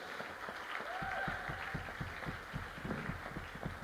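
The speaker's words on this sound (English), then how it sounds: "Let's give him another round of applause." Audience applause at a talk, muffled and fairly faint, a steady wash of clapping with soft thumping pulses running through it for the whole stretch.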